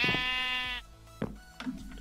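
Goats on a video game farm bleat loudly, one long harmonic bleat up front followed by a few shorter, quieter calls and small clicks, with no talking.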